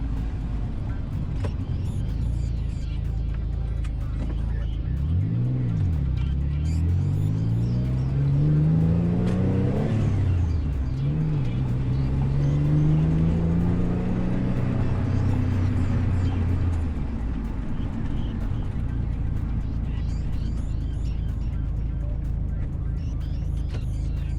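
A Mitsubishi 3000GT fitted with a Clutch Masters twin-disc clutch drives along, its engine droning steadily and rising and falling in pitch through revs and gear changes, close up inside the car with no talk.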